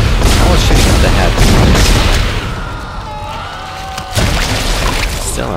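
Heavy weapon fire aimed at a monster in Dead Space: loud, rapid booming shots and impacts, a brief lull with a ringing tone, then another blast, with a voice over part of it.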